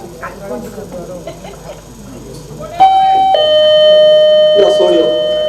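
A doorbell rings in a Konkani stage play. Its bright chime sounds twice in quick succession and lingers, loud and close, while people talk before and around it.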